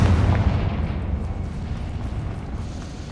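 A Confringo fire spell explodes in the Hogwarts Legacy game, a loud low boom that rolls into a sustained rumbling roar and fades slowly over a few seconds, with no talking.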